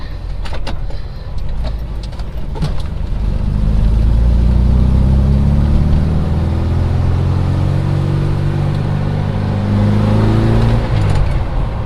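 A Volkswagen car's engine rises and hums steadily as the vehicle accelerates during a brake test, with a few clicks and knocks early on and a brief slowing near the end.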